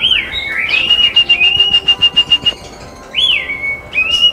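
A white-rumped shama (murai batu) songbird singing loudly and close, with clear whistled notes and a rapid run of repeated chips.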